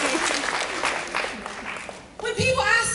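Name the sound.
audience clapping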